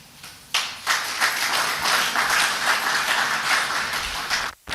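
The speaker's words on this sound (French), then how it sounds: "Je voudrais donc que nous puissions ensemble l'encourager par nos applaudissements" An audience at a public gathering in the DR Congo breaks into sudden applause after a brief lull. The clapping stays dense and steady, then cuts off abruptly just before the end.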